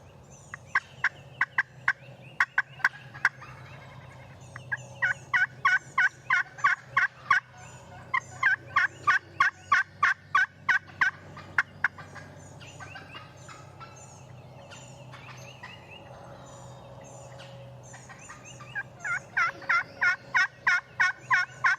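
A wild turkey gobbles repeatedly in rapid rattling bursts, several separate calls spread across a quiet outdoor setting, moderately loud and unaccompanied by speech.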